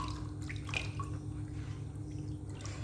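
Crushed phenyl tablet being stirred into a bucket of mopping water, giving faint, steady sloshing with a few soft drips and splashes, no voices.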